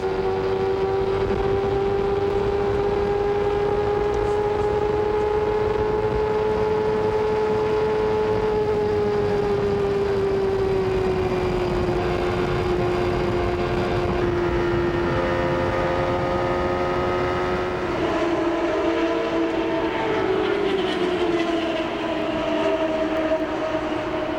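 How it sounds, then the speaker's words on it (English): IndyCar engines at the 1993 Michigan 500 race give a sustained, loud whine for over twenty seconds, the pitch sliding slowly downward and shifting as cars pass. "You can hear the engine running."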